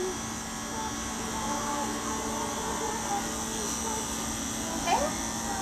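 Cordless Endless Pulse VR tattoo machine buzzing as a steady, even hum that runs the whole time at moderate level, with faint background noise and no clear speech.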